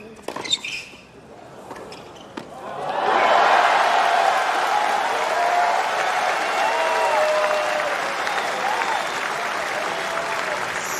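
Tennis crowd at the 2024 US Open erupting into loud, sustained applause and cheering after consecutive points, following a few sharp isolated sounds at the start; the roar holds steady and then slowly eases.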